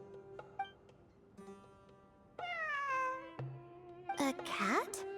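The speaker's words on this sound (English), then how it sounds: "I'm not hearing things. It really is a cat." A cat meowing in the video game Genshin Impact, several clear drawn-out tonal meows in a row, the last ones rising and more insistent, fairly close and loud with no voice over them.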